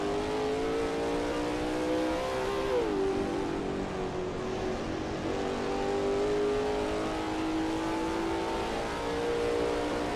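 Lola T70 MkII Spyder race car in a racing video game at Kyalami '67, its engine droning steadily and loud throughout with a brief pitch dip around a shift, then holding a sustained high-revving tone through a sweeping bend.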